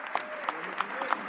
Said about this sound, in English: Give a huge round of applause for our City Council President